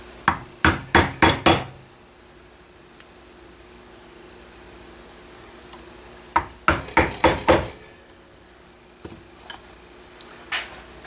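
A chisel is struck into wood in two quick bursts of five sharp mallet taps each, close and crisp, separated by quiet, with a few lighter knocks afterward.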